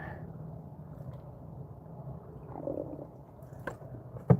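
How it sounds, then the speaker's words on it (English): A low, gurgling stomach growl rumbles softly in a quiet outdoor setting, with a brief louder gurgle near the end. "That was my stomach growling."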